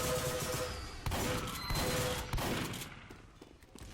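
Team Fortress 2 sentry gun firing in rapid, continuous bursts, loud and dense, layered with other game combat noise and thuds.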